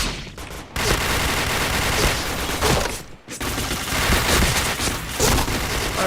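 Dense rapid gunfire in a first-person shooter video game, loud and continuous bursts with two brief pauses, firing close to the listener, no talking.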